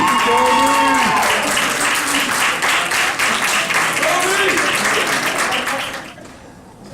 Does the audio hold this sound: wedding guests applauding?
yes